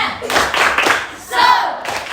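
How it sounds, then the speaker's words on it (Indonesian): A classroom of students doing the tepuk semangat clapping chant before a lesson, bursts of hand claps mixed with shouted voices, loud and close, with a short lull in the middle. "kita tepuk semangat dulu. Tepuk semangat."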